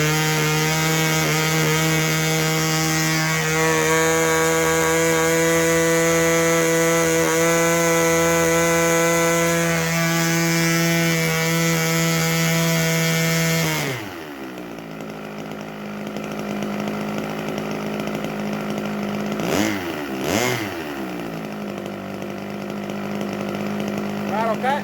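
A 32-year-old nitro engine on a model airplane screams at a high steady whine for about fourteen seconds, then drops abruptly to a lower idle after the throttle is cut, with someone talking over it.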